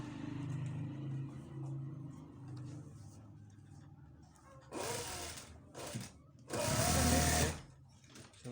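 A sewing machine stitches fabric for a child's shalwar in two short, close bursts of fast, whirring needle clatter, separated by a brief pause, after quieter handling sounds.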